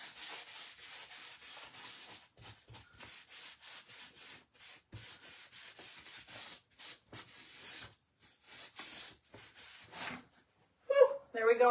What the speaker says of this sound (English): We might have to take a little bit of a sandpaper to it to kind of break some of it up